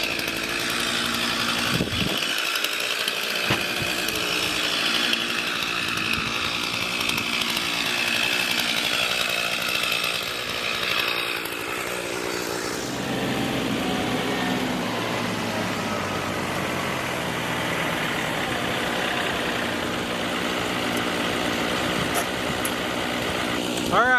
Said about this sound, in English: set the saw outside and just let it run for a few minutes